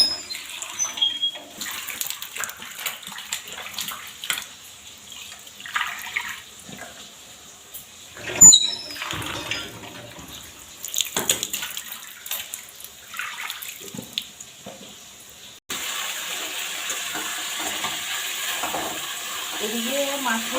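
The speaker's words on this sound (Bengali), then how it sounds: "চলুন তাহলে এবার এগুলো ধুয়ে নিয়ে আসি।" Kitchen items are washed under running water, with intermittent splashing and rinsing at first, then a steady gush from a tap toward the end, close and moderately loud.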